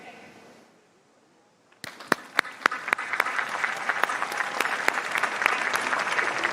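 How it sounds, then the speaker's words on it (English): After a quiet pause, a high school graduation audience for the class of 2020 bursts into applause. Sharp individual claps ring out at first, then thicken into sustained, building clapping that lasts several seconds. "These Spartan staff members, plus your elementary and middle school educators and the CFISD family, all applaud you."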